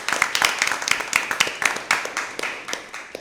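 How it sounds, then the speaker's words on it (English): Audience applause at a school competition between Presentation College San Fernando and San Fernando Central Secondary, a dense burst of many hands clapping, loud and close, fading slightly toward the end. "a round of applause again to you all"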